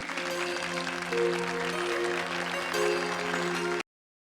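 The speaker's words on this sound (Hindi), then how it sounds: "तालियों से स्वागत कीजिए प्लीज" Audience applause greeting a show stopper, Liza, at a fashion show, a broad steady wash of clapping lasting a few seconds with sustained tonal music running underneath, then cutting off abruptly.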